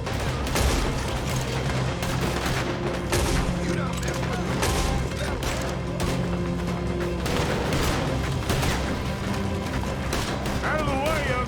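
A chaotic gunfight in Red Dead Redemption 2, with scattered gunshots, booms and crashing over a continuous rumbling bed while voices shout throughout.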